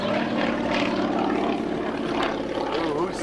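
A propeller airplane drones steadily overhead at a moderate distance, its engine hum continuous throughout, with people talking over it outdoors in Slovakia.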